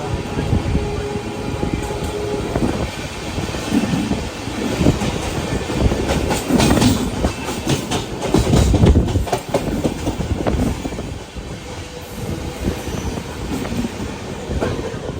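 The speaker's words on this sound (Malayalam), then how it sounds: "ഇവിടെ ഒരു ഓവർടേക്കിംഗ് ആണ്. ഒരു ലോക്കൽ വരുന്നുണ്ട്." A local train rumbles past nearby at Borivali station, Mumbai, loud and sustained, with rhythmic clattering of wheels on the rails and occasional metallic squeals.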